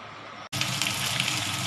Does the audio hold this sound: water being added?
yes